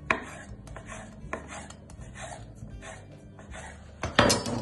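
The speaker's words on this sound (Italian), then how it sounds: "la arrotoliamo e la tagliamo sottilmente" A knife on a cutting board slices rolled homemade pasta dough into thin tagliarina strips for maccu di fave, making about nine crisp, evenly spaced chopping strokes up close, with a louder knock at the end.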